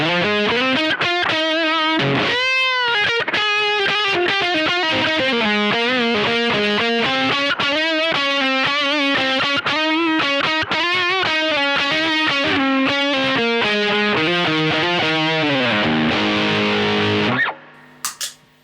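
Electric guitar played through a Nux Plexi Crunch high-gain overdrive pedal, loud distorted chords and riffs ringing continuously for about seventeen seconds before cutting off abruptly with a brief noise at the end.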